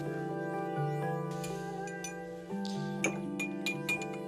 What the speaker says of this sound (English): One nice piece of ice into the glass.